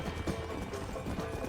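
Rapid, rhythmic hoofbeats of a galloping black war horse in Red Dead Redemption play continuously over a steady synthetic background hum.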